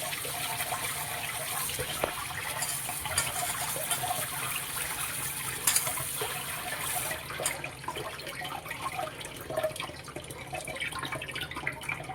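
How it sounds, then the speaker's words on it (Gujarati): Amaranth (tandalja) greens being washed in water give a steady splashing and trickling wash with occasional drips and clatter throughout, close and continuous, with no talking. "હવે આપણે ચોથી વાર ધોઈ લઈશું।"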